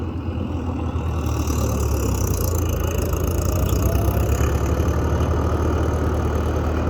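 John Deere 5310 tractor with cage wheels straining to pull itself out of deep mud, a loud continuous low diesel engine drone, steady and close, with no talk.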